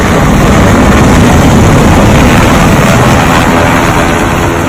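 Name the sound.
helicopters flying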